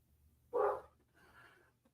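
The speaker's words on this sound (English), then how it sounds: "what are you barking at?" A dog indoors gives a single sharp bark at a window, then a softer trailing woof, fairly close and alone over quiet room hum.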